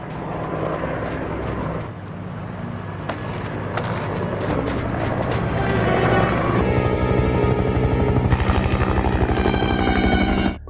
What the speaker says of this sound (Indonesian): Tapi tiba-tiba mereka mendengar suara helikopter.